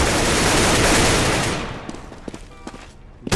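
Dense, continuous gunfire during a Counter-Strike match on the map Train, Mouz against 3DMAX, with a loud sustained volley that fades into a few scattered sharp shots.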